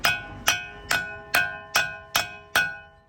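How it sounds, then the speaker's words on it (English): Seven evenly spaced metallic taps of a hammer on a wheel bearing hub ring out one after another, each bright strike leaving a short ringing tone that fades before the next. "I'm going to gently tap this with the hammer"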